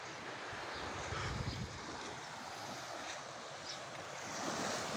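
Calm surf washes continuously onto a clean beach shore beside a cave, a steady, broad rushing hiss with mild wind buffeting and no voices.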